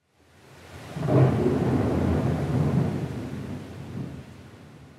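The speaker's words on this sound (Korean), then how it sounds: "번개와 천둥이 치며 비가 오기 시작했습니다." Thunder rolls in with a low rumble that swells, lingers for a few seconds and fades, with a hiss of rain beneath it and no voices.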